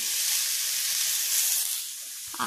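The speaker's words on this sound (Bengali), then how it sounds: "এখানে বসিয়ে দিয়েছি ভেজি শাক ভাজা, এই গরম আছে।" Leafy greens (vegetable saag) frying in a hot pan give a steady, close sizzling hiss that holds for the whole stretch and eases slightly near the end, with no talk over it.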